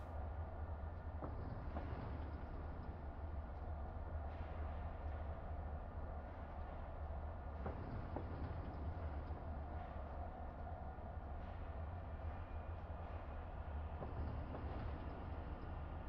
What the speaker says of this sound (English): I can hear the dynamic brake a little bit.